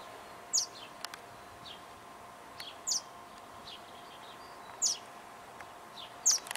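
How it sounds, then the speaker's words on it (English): Several short, high chirps from a tiny bird, hummingbird-sized, near a Palo Verde tree, sounding at irregular intervals against a quiet outdoor background. "There's a tiny, tiny little bird right there."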